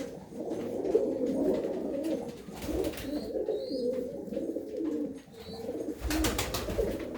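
A flock of pigeons coos continuously at close range, the low burbling calls overlapping, with a few thin chirps and intermittent rustles or wing flutters breaking in.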